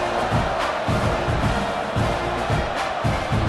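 A dense stadium crowd from EA Sports College Football 26 roars steadily with muffled rhythmic thumps beneath it, a loud and constant wash of noise and no clear voices.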